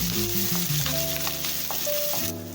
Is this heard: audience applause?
no